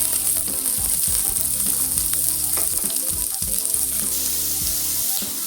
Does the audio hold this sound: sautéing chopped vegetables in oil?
yes